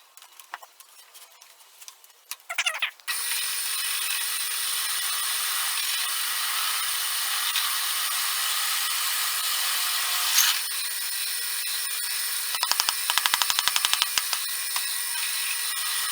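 A power tool whines steadily as it cuts a mortise into a wooden bed part, starting after a few quiet handling knocks and running alone at close range, with a brief surge near the middle and scraping rattles toward the end.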